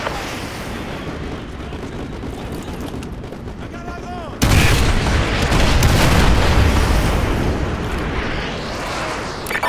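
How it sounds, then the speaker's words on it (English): Artillery shells in Call of Duty (PS5, Battle of Virginia mission) land with a sudden heavy boom midway, followed by sustained rumbling blasts and loud battlefield noise after a quieter stretch of radio chatter and ambient combat. "Artillery inbound."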